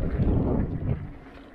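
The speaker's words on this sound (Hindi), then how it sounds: "हवा बहुत ज़्यादा चल रही है" Strong wind buffets the microphone outdoors in a hot, dry village in Tamil Nadu, a loud, continuous low roar and rumble throughout that eases slightly toward the end, with no talking.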